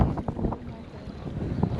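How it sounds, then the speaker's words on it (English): Strong wind gusting over a fishing boat on open water, heavy buffeting rumble against the microphone with steady water and hull noise underneath, no voices. "it's really windy."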